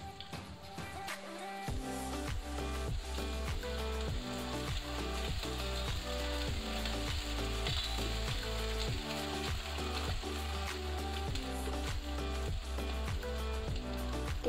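Ground spice paste hits hot oil in a pan for a fish curry, setting off a loud, steady sizzle that begins abruptly after a quiet moment and crackles on without pause.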